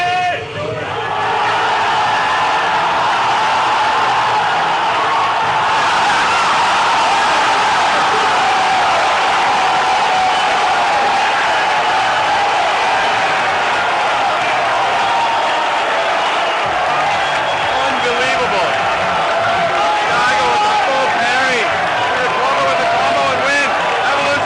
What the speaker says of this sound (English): The crowd went wild.